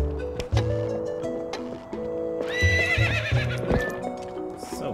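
A horse whinnies loudly over steady clip-clop hoofbeats, with bright chiming musical tones in the background, in the video game The Legend of Zelda: Twilight Princess.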